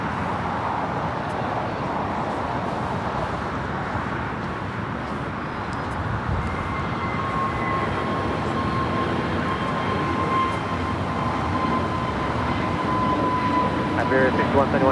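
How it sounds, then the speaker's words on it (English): An Austrian Airlines Boeing 777-200ER jet taxiing at LAX while turning onto a taxiway, with a steady distant engine rumble and a faint whine rising slightly toward the end. "Austrian heading back to Vienna in this 777-200ER, now making that left-hand turn onto Bravo."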